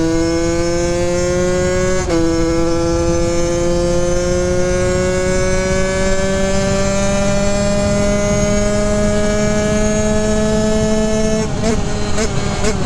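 A $300 mini supermoto motorcycle, geared with a smaller rear sprocket and running lean, revs hard and holds a high, steady whine. The pitch dips briefly, then climbs slowly and holds before the engine drops off near the end. The sound is loud and close, with no talk.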